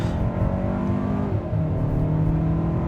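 A 2024 Hyundai Santa Fe Calligraphy turbo SUV with a dual-clutch transmission pulls away from a standstill, its engine droning loud and steady, then climbing in pitch with a brief dip as it shifts.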